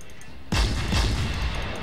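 A warship's guns fire in World of Warships, with a sudden loud boom at the onset followed by a rumbling, sustained roar of gunfire and explosions.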